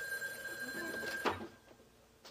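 A telephone bell rings steadily in an indoor drama scene, a bright sustained ring that cuts off abruptly partway through, followed by quiet room tone.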